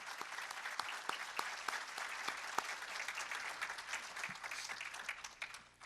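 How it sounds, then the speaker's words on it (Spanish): An audience at a theological debate breaks into strong, dense applause: many hands clapping steadily and fairly close for about six seconds, tapering off at the end. "demos un fuerte aplauso"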